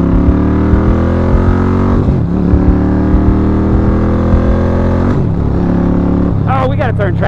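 Indian Roadmaster Thunderstroke 116 motorcycle with an Indian cam accelerating in second gear, a loud close engine drone rising steadily in pitch, dropping and climbing again, with a voice briefly over the end.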